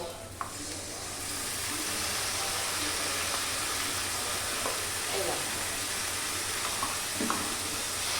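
A paste of ground ginger, onion, garlic and green chilli with salt and a little sugar fries in a pan over medium heat, giving a steady, dense sizzle throughout with a few faint scrapes of stirring.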